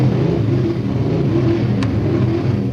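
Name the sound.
motorcycle engine revving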